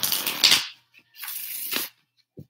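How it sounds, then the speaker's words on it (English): A Kali oracle card deck being shuffled by hand: two crisp riffling bursts separated by a short pause, then a soft tap at the end. "Ooh, these cards shuffle beautifully."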